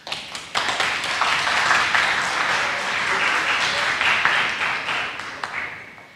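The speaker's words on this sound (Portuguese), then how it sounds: "Salva de palmas pelo seu depoimento" Audience at a talk about autism advocacy applauds after a testimony, a thick wash of clapping with a few sharper individual claps standing out, close and steady for several seconds.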